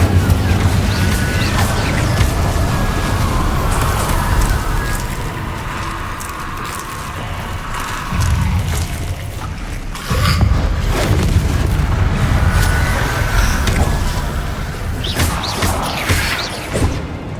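The Incendio fire spell is cast repeatedly in the video game Hogwarts Legacy, producing loud booming bursts and whooshing crashes that swell and fade over a constant rumble of game sound.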